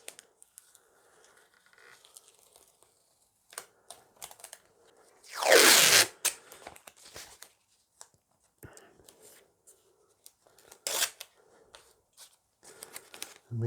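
Protective covering peeled off guitar frets during a fret job, a single loud tearing rip lasting about a second, followed by scattered small clicks and handling noises, with a shorter rip near the end.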